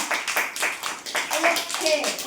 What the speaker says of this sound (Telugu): క్లాప్స్ కొట్టండి గట్టిగా, నేను కొడతాను.